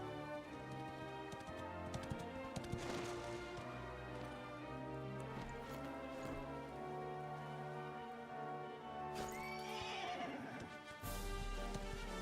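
A horse neighs and whinnies over a steady bed of orchestral game music in Dragon Quest XI, with hoofbeats clopping along beneath it.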